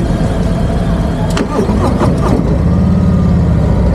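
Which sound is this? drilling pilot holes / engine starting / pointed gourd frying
engine starting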